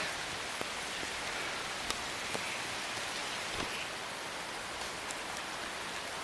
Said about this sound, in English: Oh, bloody rain.